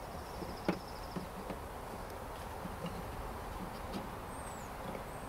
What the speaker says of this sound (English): I'm right above a bunch of bees here